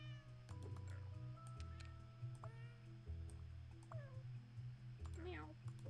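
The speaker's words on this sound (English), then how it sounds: "Meow." Several short cat meows come one after another with pauses between them, close and fairly quiet, with rising and falling tones and a few overlapping calls, as if from more than one cat.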